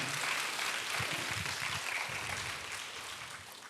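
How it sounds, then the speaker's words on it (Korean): A church congregation at a Friday prayer meeting in Daegu applauds, a dense, even wash of many hands clapping together that stays steady and then gently fades toward the end. "하나님께 영광의 박수와 격려의 박수 드리겠습니다"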